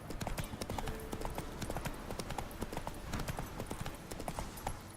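Roach the horse in The Witcher 3 galloping, rapid continuous hoofbeats at an even rhythm, fairly quiet and close, with no talking.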